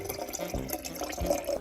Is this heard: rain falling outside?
no